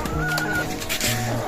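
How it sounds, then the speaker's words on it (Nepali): A village hen clucks in a chicken coop while laying eggs, repeated close, drawn-out clucks with brief pauses between them. "यहाँ पुथीमाउ अन्डा पार्दै गरेको"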